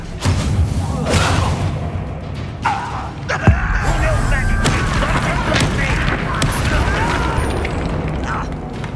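Spell impacts in Hogwarts Legacy hit as booming thuds and crackling blasts, several bursts in quick succession with one sharp loud strike, over continuous combat noise while a voice shouts incantations.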